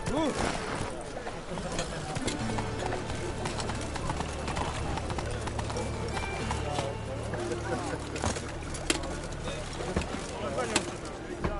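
Roach, a horse in The Witcher 3, gallops in a steady rhythmic clip-clop of hooves under continuous game sound and spoken dialogue, moderately loud throughout.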